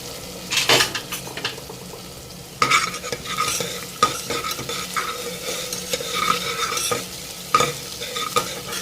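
Sliced ginger and green chillies with salt fry in white cooking oil, a steady soft sizzle under repeated scraping strokes of a spatula and light clinks of metal against the pan, with no talking.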